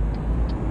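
Turn signal ticking inside a truck in Euro Truck Simulator 2, a light steady tick-tock clicking at a regular pace over a low engine rumble.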